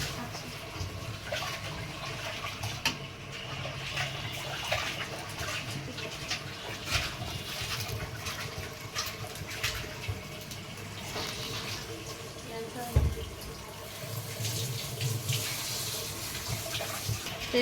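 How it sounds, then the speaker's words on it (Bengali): Water runs steadily from a kitchen tap during home cooking, a continuous splashing hiss lasting throughout, with a brief clatter near the end and faint background voices. "কলটা একটু বন্ধ করেন"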